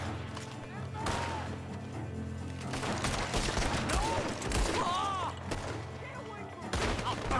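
Gunfire in Red Dead Redemption 2, bursts of rapid shots and crackling volleys spread across the scene, moderately loud amid game noise and whooshing effects.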